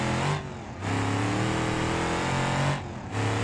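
A car engine in the BeamNG.drive driving game revs hard and climbs in pitch, drops briefly as if between gears, then climbs again before another dip, loud and close with no voices.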